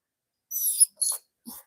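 An Airedale Terrier breathes in short, quick bursts, three brief snuffly puffs close to the microphone separated by silence, with no talking.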